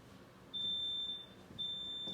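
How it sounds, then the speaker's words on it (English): A household smoke alarm, set off by food burning while cooking, gives two long, shrill high beeps separated by a short gap over faint room noise. "Oh, we got a fire alarm,"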